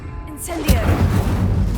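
The Incendio fire spell is cast in Hogwarts Legacy on PS5: a short airy whoosh swells, then a sudden burst erupts into a rumbling, crackling blaze that holds loudly to the end.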